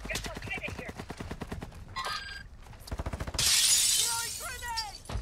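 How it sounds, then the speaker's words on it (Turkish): Glass shatters in Call of Duty: Modern Warfare Warzone 2.0 during a Resurgence Quads match, a bright crashing burst near the end after rapid bursts of automatic gunfire, with players' voices heard alongside. "Cam kırıldı."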